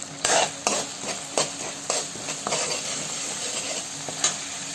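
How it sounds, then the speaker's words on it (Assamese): Ground cumin, coriander and salt being stirred in a pan for chicken tikka masala, a rhythmic series of scraping spoon strokes over a constant sizzle, close and clear. "এইখিনি দি এতিয়া ধুনীয়াকৈ লৰাই লওঁ"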